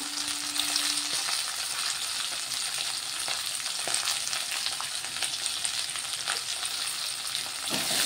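Washed mint leaves go into a hot frying pan for a mint tomato chutney, raising a steady bright sizzle with occasional stirring scrapes and light clicks, close and continuous with no talking.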